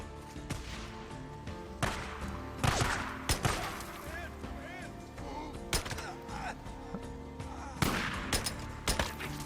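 Gunshots in the video game Days Gone, a scattered series of sharp single shots spaced a second or so apart over a steady game background hum, with occasional speech-like sounds in between.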